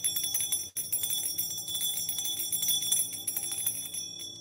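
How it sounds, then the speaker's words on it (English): A ritual bell struck again and again to clear energy, rapid bright metallic rings with shimmering high overtones layering over one another, fairly close and steady, with one brief gap early on. "if you're wondering why I'm hitting that bell, right? Like the bell clears energy."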